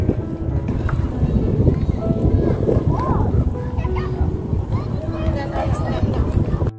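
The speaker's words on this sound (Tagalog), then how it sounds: "naririnig mo yung mga hangin ng dagat" Gusty wind buffets the microphone in a constant low roar by the sea at Corniche Park, Saudi Arabia, with voices talking faintly underneath.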